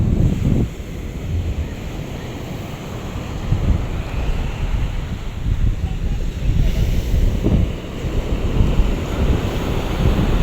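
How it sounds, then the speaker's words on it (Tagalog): Strong sea waves break and wash ashore at a windy beach, with heavy wind buffeting the microphone and surges of surf rising and falling throughout. "Malalakas po ang alon talaga"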